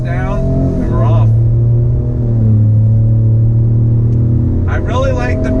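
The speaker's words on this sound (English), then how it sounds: "I really like the bassy boom sound coming from the truck." A 2019 Ford F-150 Limited pickup accelerates from a stop, its engine giving a deep, bassy, steady boom that swells and holds loud throughout, with a voice talking briefly at the start and end.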